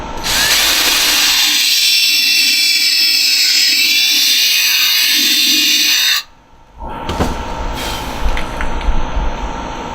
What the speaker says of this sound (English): and drill another hole.